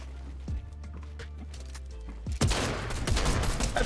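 Video game gunfire rings out in a few sharp, separated shots, then a louder, denser burst of rapid fire near the end, set against a low rumbling background.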